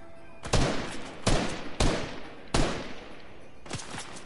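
Gunfire in the Fortnite video game, likely from a bot, sounds as about five loud blasts spaced roughly a second apart, each trailing off, with no talk over them.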